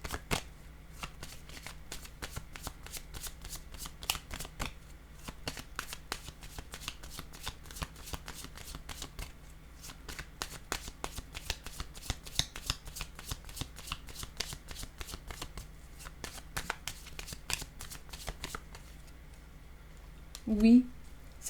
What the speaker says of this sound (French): Je vais prendre une nouvelle carte de ce jeu.